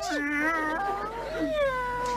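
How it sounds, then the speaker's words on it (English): A cat meows repeatedly with drawn-out, wavering cries, close and fairly loud, with no pauses between calls. "My assistant Beaker is putting an unwanted kitty into the converter"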